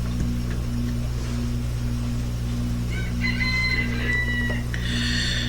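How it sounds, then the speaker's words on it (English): Roosters crow faintly in the distance, a couple of drawn-out calls toward the end, over a loud constant electrical hum and background noise. "our chickens crow all hours of the day and night"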